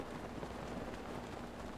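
Steady rain in Zelda: Breath of the Wild as snowy weather turns wet, a dense even hiss of falling drops that holds at constant level throughout, with no voices.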